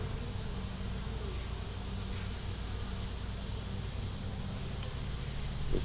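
Honey bees buzz steadily around open hive frames holding honey, nectar, pollen and brood, a dense continuous close hum with no pauses and no voices.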